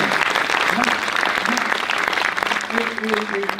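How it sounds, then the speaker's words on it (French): An audience at a Rotary peace conference breaks into sustained, full applause, with dense clapping filling the room and a voice briefly audible beneath it. "Je propose qu'on l'applaudisse"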